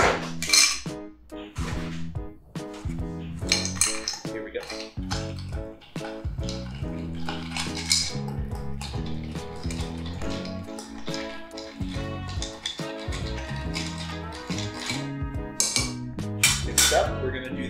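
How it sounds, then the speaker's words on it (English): Ice and a bar spoon clink against glass as a bourbon old fashioned with maple syrup is stirred, with bright repeated chinks and rattling over a busy close-up background. "So next we're going to stir this bad boy after we ice up."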